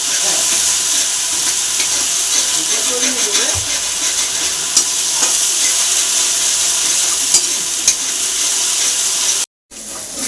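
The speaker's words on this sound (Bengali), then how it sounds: "দেখুন এখন মশলাগুলি ভালো করে কষিয়ে নিয়েছি।" Spices sizzle in hot oil while being stirred in a pan for a pea mince curry, a steady close hiss with scraping and clattering stirring throughout and a brief break near the end.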